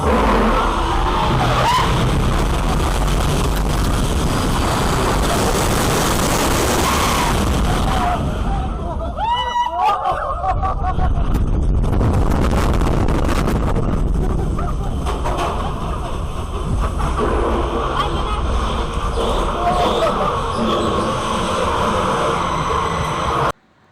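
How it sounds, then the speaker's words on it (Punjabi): Riders on the Turbo Track roller coaster at Ferrari World Abu Dhabi, where a loud, sustained roar of the launched train and rushing wind runs throughout. Screams and crowd voices sound over it, with a brief lull in the middle. "ਇਹਨੂੰ ਕਹਿੰਦੇ ਨੇ ਟਰਬੋ ਟਰੈਕ ਇਹ ਉੱਪਰ ਤੱਕ ਜਾ ਕੇ ਬਿਲਕੁਲ ਫਿਰ ਇਹ ਵਾਪਸ ਰਿਵਰਸ ਆਉਂਦੀ ਆ"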